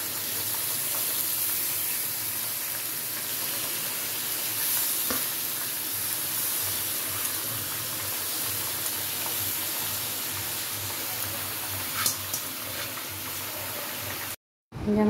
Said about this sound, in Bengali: পুরো মটনটা দিয়ে দিচ্ছে কড়াইতে।